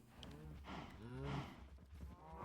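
Cows in Minecraft mooing in a small penned herd, two drawn-out lowing calls close together over a low ambient rumble.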